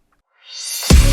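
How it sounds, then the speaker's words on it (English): A fat, deep 808 bass from the Serum synth drops in with a heavy, sustained low thump, after a rising synth swell builds up beneath it in an electronic hip hop-leaning pop chorus. "really fat 808 from Serum"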